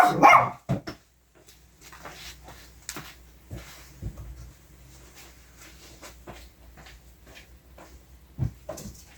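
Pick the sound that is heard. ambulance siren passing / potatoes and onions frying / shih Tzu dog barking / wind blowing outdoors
shih Tzu dog barking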